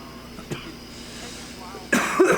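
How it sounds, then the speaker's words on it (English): A man gives a short cough after several hits from a DynaVap M 2020 vaporizer with cannabis concentrates, a brief soft cough followed by a louder, harsher rasping cough up close. "I'm just coughing because I'm at several hits now."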